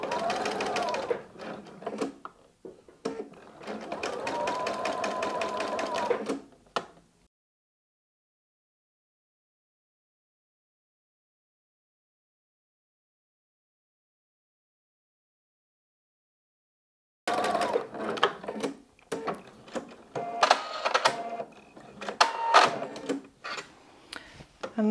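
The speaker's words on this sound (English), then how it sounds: "just make sure those fabric edges are lining up nicely as you sew." A sewing machine stitches the gathered waistband onto a midi skirt in two long runs of steady, rapid mechanical chatter, separated by a silent pause of about ten seconds.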